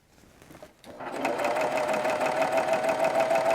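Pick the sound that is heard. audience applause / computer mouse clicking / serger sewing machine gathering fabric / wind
serger sewing machine gathering fabric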